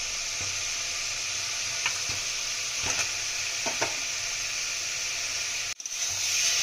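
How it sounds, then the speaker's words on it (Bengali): Potatoes tossed into hot oil and spices in a pan sizzle with a soft, even hiss, punctuated by a few faint stirring clicks, a brief dip near the end, then the sizzle swelling again. "এই আমরা মশলা থেকে তেল ছাড়তে শুরু করেছে আলুগুলো দিয়ে দিচ্ছি"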